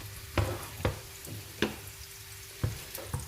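Carrots, capsicum, peas and tomatoes frying together in hot olive oil for a pasta-style noodle dish, a soft sizzle punctuated by several distinct stirring clacks spaced irregularly.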